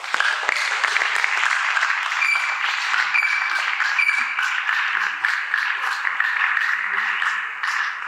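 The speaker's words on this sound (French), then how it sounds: "J'aimerais qu'on applaudisse la compagnie des Jésuites" A crowd applauds the Jesuit company at a finale event, with dense, sustained clapping that holds steady for about eight seconds and fills the room.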